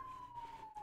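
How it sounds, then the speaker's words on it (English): An emergency vehicle siren wails steadily in the distance in a city, a single sustained tone drifting slightly in pitch over low city rumble. "Sorry for the sirens."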